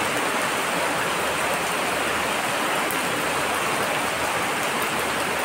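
Rain falls steadily during hot weather in Bacoor, Cavite, a dense, even hiss of heavy downpour on surfaces that fills the whole scene without pause.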